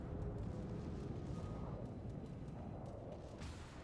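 A naval gun salvo in the World of Warships game, aimed at a Musashi battleship: a dense, sustained roaring boom that fills the whole stretch with steady low rumble, loud and close, with no voices over it.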